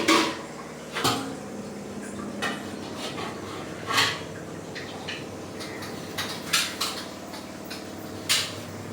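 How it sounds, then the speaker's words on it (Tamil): Dishes and metal utensils are washed in a domestic kitchen, with intermittent clanks and clinks over a steady background of running water and handling noise. "சாமான் பார்த்தீங்களா என் வீட்டுக்கார சுத்தமாக கழுவுறாரு பாருங்க"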